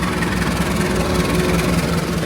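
KA Kamandaka train passing a waiting train at Weleri station in the evening, a loud, steady low engine rumble and vibration filling the whole moment, close by.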